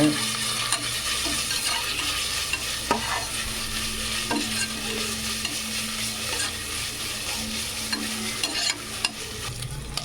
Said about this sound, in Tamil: கொத்தமல்லி சேர்த்து நல்லா வதக்கிக்கோங்க